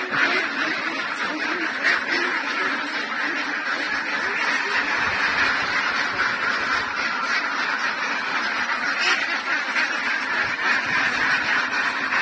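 A dense flock of ducks, ready-to-lay birds being moved into a renovated duck house, quacks nonstop, a loud overlapping chorus close by with no talking.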